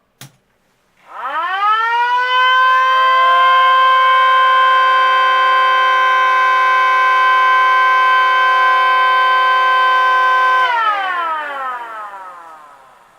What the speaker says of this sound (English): Now I'm just going to do my trio of Federal Signal Sirens.